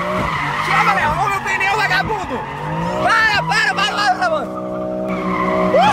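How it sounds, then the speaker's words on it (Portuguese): Tires of a new car squeal loudly as it skids and smokes, wavering shrieks running through the whole stretch while excited voices shout over them. "Olha os pneus soltando fumaça."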